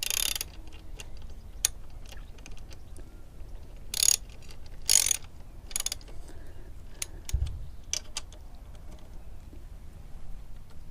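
A ratchet clicks in short bursts and single ticks while tightening bolts on a Honda CB500X motorcycle rear hugger. Close and fairly quiet, with pauses between runs and a few sharper knocks.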